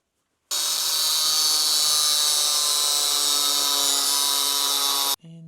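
A new cutoff wheel grinds into metal while a part is made during a rear wheel bearing job on a 2001 Honda CR-V, a loud, steady high whine lasting about five seconds before cutting off sharply.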